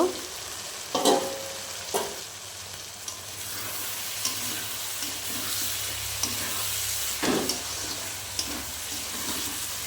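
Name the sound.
crab curry with potato and papaya sizzling as liquid reduces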